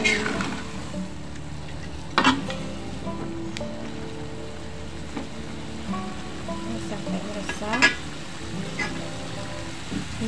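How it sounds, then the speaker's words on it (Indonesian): Long beans are stirred in a pan with coconut milk, with soft scraping and bubbling and a few sharper clatters of the spoon, while someone talks. "Lalu kita masukkan sayur kacang. Kita aduk kembali."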